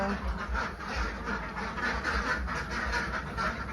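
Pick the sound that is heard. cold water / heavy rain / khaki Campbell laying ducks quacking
khaki Campbell laying ducks quacking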